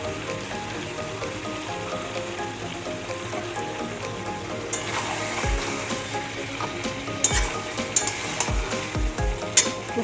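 Ghee sizzling in a pan while curry cooks, a soft continuous crackle with a few sharp low knocks of a utensil against the pan in the second half.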